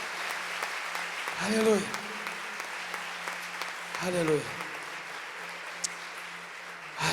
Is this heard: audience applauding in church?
yes